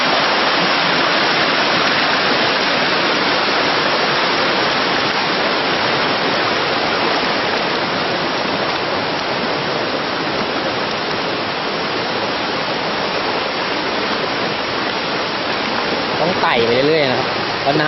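Steady, dense rush of falling water from a small waterfall beside a stream, constant and close throughout, with a faint voice briefly near the end.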